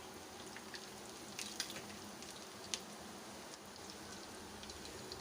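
Minced raw-meat kebabs sizzle in a pan with a steady, quiet crackle like light rain, plus a few sharp pops rising out of the hiss.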